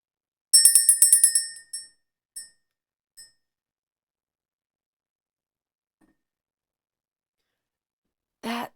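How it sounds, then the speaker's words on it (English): A bright metal bell is struck in a quick run of rings, then two sparse, fading strikes follow before long silence and a soft breathy sound at the end, rung to clear the energy. "We're just going to ring the bell, clear the energy"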